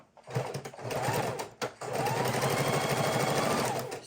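A sewing machine stitches up the side of a mixed media journal page, a fast, steady mechanical chatter running close and loud with one brief pause partway through.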